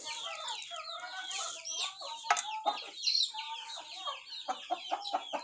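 Native free-range chickens fed on corn cluck steadily in a busy flock, with overlapping near and mid-distance calls and a few sharper squawks, no talk over them.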